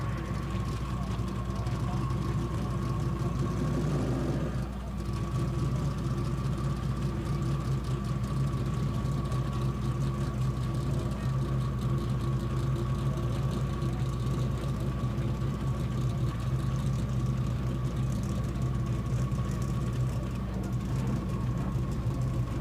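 A Big Tire class drag racing car at a grudge race event sits in the right lane, its engine giving a low, continuous rumble and drone heard from a distance. It holds a steady level throughout with a faint background murmur.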